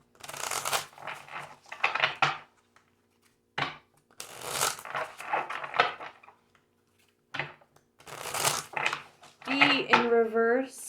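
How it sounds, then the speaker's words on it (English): Tarot cards being shuffled in bursts of riffling, flicking and snapping, separated by short pauses, close and fairly loud, with a brief voice toward the end. "2 more shuffles for the collective for the Pisces full moon"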